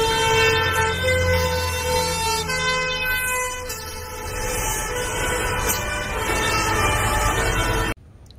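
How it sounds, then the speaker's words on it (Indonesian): A toy fire truck siren wails with a buzzy electronic tone, holding steady for several seconds before cutting off abruptly. "Wow, mobil pemadam kebakaran."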